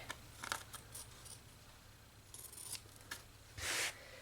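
Scissors trim cross stitch fabric in a handful of quick, close snips, separated by brief pauses and followed by a louder rasping cut near the end; no talking is heard.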